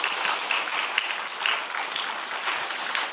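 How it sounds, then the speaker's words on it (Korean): A church congregation applauding during a Lenten early-morning prayer service, a dense, even wash of clapping from many people that holds steady throughout at a fairly loud level. "우리 하나님께 영광의 박수 올려드리도록 하겠습니다."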